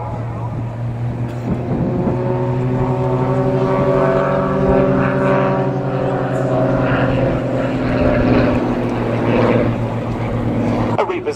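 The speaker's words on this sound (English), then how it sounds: "there they go into a very graceful barrel roll." A propeller aircraft performs a barrel roll at an airshow, its engine droning with a steady tone that shifts in pitch through the manoeuvre while an announcer talks over it.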